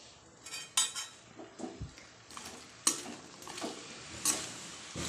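Winter vegetables stir-fried in masala, a spatula clanking and scraping against the pot in irregular strokes with a soft sizzle underneath.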